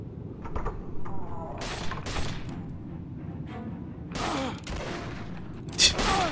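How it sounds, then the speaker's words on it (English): Repeated gunfire from a handgun in the survival horror game Dementium II HD, several sharp bursts spread over a few seconds with a dense game soundscape beneath. "He just stands perfectly still without reacting to the gunshots to the head."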